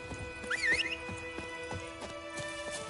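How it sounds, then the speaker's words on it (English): A horse in The Witcher 3 trots closer with a rhythmic clip-clop of hooves and a short whinny near the start, moderately quiet against game ambience. "So have your horse come to you,"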